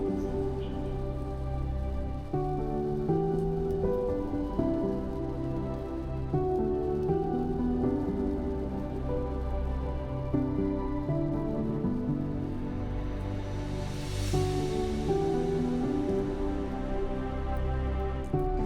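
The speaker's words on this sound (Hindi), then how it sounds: "बूंदाबांदी वाली बारिश शुरू हो गई है।" Steady light drizzle patters on a hard surface on a road trip in India, a dense, even drizzle of drops that continues throughout without any voices.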